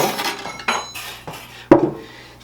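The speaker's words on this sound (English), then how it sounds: "We're going to go ahead and take our apple pieces now that they've cooled down and add that to the butter mix." Cooled apple pieces tip into a butter mix in a bowl with a few distinct clinks and thuds of a utensil against the dish, loudest near the end, no voices.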